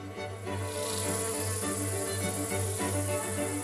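Honeybees buzz around flowering rapeseed fields in Yunnan as a close, steady, droning hum that wavers slightly in intensity without pause.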